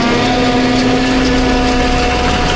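A small tractor fitted with dual wheels chopping grass, its engine droning steadily and loud throughout with a constant hum and no pauses.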